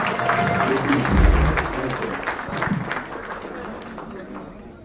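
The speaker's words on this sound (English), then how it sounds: "A round of applause to him one more time" An audience at a corporate long service awards night applauds, a broad rumble of clapping and crowd noise that swells early and then fades toward the end while a presenter's voice carries over it.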